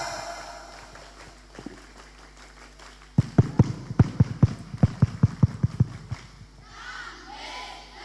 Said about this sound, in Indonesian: Coba 2 kali tepuk pramuka.